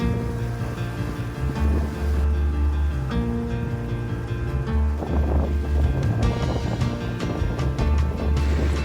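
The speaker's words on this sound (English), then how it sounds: "What a fabulous day sailing out here. Gorgeous winds." A sailboat under way in brisk wind on Chesapeake Bay, with steady wind rush, water wash against the hull and a low rumble filling the whole stretch, loud and continuous with no talk.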